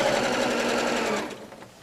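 A sewing machine stitches down a pocket, a fast, steady, close mechanical hum-and-rattle that runs for about a second before slowing and fading.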